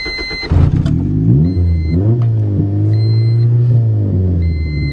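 A 1990 Honda car engine starts with a loud burst and then revs repeatedly, its steady low rumble rising and falling over several pitch sweeps, close to the microphone with no talking.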